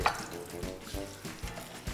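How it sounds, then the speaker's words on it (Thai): Beaten eggs stirred in a hot pan for pad thai, a utensil scraping in quick, rhythmic strokes against the pan over a faint sizzle, heard up close. "คนให้ไข่มันเป็นริ้วนะครับ"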